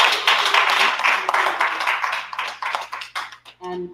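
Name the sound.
audience applause for the winners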